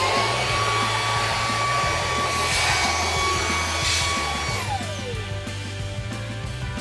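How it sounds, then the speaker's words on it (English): A blower vac runs steadily close by in a home, a continuous loud whining whoosh with a high tonal whine that holds level and then drops in pitch toward the end. "I love the blower vac too."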